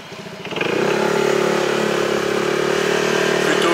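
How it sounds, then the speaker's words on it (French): Small family scooter ridden through Phuket, Thailand, its engine clattering at first then revving up into a steady rising drone, close and continuous with no talk. "j'ai pris le petit scooter de la famille sur laquelle j'aurai pas le problème d'ABS"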